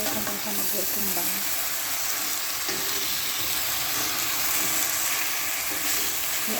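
Meat sizzles and fries in a hot pan with spices, a dense, continuous crackling hiss up close with occasional scraping stirs.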